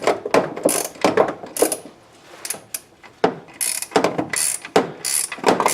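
Ratchet on wobble extensions working a car starter bolt loose, close and loud, in quick bursts of rapid clicking separated by short pauses, with no talk.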